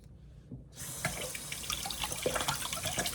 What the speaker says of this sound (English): I'm gonna rinse the juice of the mango off of it